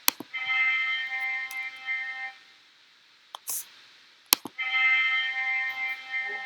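A trumpet plays soft sustained notes in two long phrases separated by a pause, with a few sharp clicks in between.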